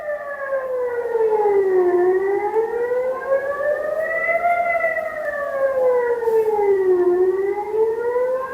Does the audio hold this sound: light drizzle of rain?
no